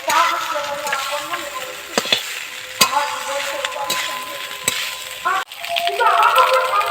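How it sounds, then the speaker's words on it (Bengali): Vegetarian cauliflower fried rice is stirred in a frying pan: steady sizzling with sharp scrapes and clinks of the spatula at intervals, fairly close, with some talk in the background. "এইভাবে ভালো করে নাড়াচাড়া করতে করতে মিশিয়ে যাবে।"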